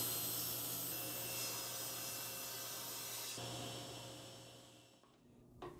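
A table saw rips a wooden bottom piece for a spline-slotting jig with the fence set at 12 inches, giving a loud, continuous whirring cut that fades as the blade spins down near the end.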